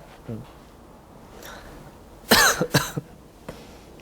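A pastor coughs during a church sermon: a few strong close coughs in a tight cluster, with quieter rough throat sounds before and after.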